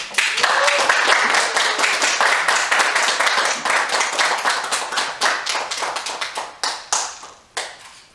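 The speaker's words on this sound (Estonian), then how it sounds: "Aplaus!" Applause breaks out at a Catholic bishop's consecration ceremony in Estonia, dense clapping from a congregation that gradually thins into scattered individual claps as it dies away.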